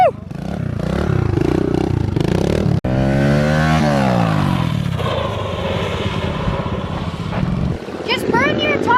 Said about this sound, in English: Just burn your tire off.